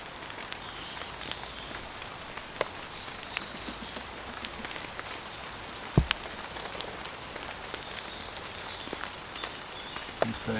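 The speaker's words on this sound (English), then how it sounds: "I don't think it's going to stop raining tonight at all" Rain falls steadily on a camping shelter at a wild solo campsite, giving a soft, continuous patter with scattered sharper drips and taps throughout.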